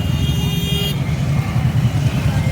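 Cars pass on a busy city road at night in Ayodhya, a loud steady engine and tyre rumble close by, with a brief high tonal whine fading after the first second.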